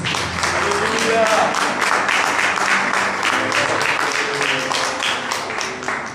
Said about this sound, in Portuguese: Aplauda o Senhor Jesus.